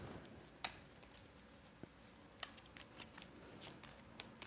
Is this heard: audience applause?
no